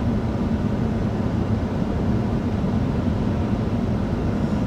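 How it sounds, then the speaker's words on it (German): Interior cabin noise of a Mercedes E 300 e 4matic plug-in hybrid with double glazing, driving at 50 km/h on electric power only: a steady low rumble of road and tyre noise with a soft ventilation hiss, continuous and even. "wir wollen mit euch mal die Innengeräusche bei 50 km/h rein elektrisch gefahren messen"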